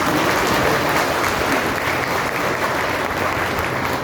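Steady applause from an audience at a Kabir Jayanti fortnight gathering in Samastipur, dense and continuous for about four seconds, loud and close with no speech over it.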